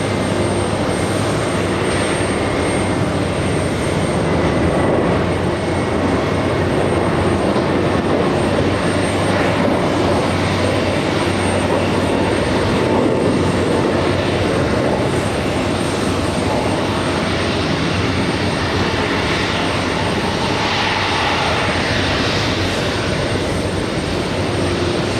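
A JetBlue jet airliner lifts off from a runway at JFK Airport, a steady, fairly distant engine rumble with a broad rushing roar that holds evenly throughout.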